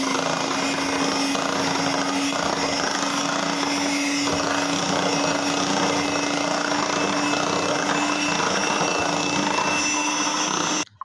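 An electric hand mixer whips milk and yellow food colouring for homemade mango ice cream, a steady, loud whirring drone that runs unbroken for about eleven seconds before cutting off abruptly.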